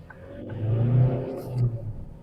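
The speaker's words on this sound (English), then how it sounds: "Yeah, so the engine pulls very well." A Ford Focus engine revs and pulls under acceleration, a close, steady droning hum that swells twice and eases off between the surges, with no talking.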